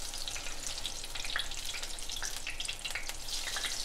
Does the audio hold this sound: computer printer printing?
no